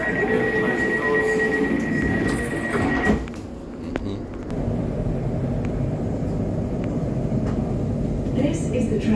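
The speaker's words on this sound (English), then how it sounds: "The train on platform B is ready to depart." An Elizabeth line train pulls out of Custom House station, with a sustained rail rumble and whine that drops away midway into a rolling carriage roar and scattered clicks. A recorded platform announcement plays early on.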